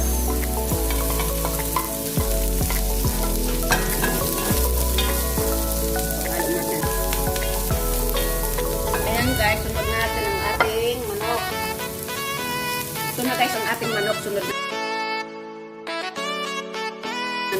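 Onion going into a pan of golden-browned garlic and ginger for a chicken curry, a loud, crackling sizzle with stirring over music in the background; the music continues alone at the very end.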